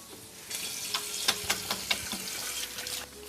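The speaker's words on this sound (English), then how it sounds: "I'm going to wash my hands quickly" Water running from a kitchen tap while hands are washed at the sink, a steady splashing stream broken by a few brief louder splashes and clatters, with no talking.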